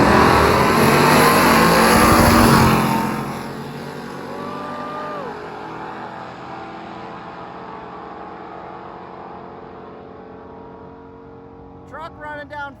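Big-block Dodge Dart and Ford truck drag racing, the truck turbocharged: a loud roar of both engines launching off the line fades within seconds into distant, dwindling engine drone as the cars run away down the strip.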